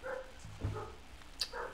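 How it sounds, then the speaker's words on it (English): A dog gives a couple of short, fairly faint barks and yips in the background of a quiet room, without speech. "Oh no, the crazy dog is here."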